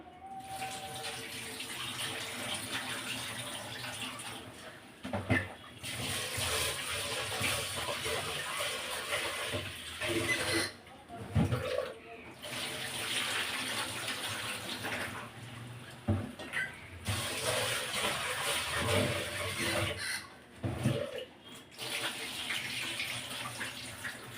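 Running tap water pours steadily over lentils being washed, a continuous close splashing rush with brief dips where hands move the grains, no talking.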